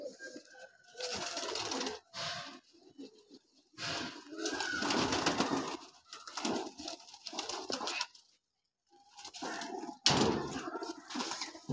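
Domestic racing pigeons in a loft coo in soft, repeated bursts with brief quiet gaps, close by and moderately faint, with some rustling mixed in.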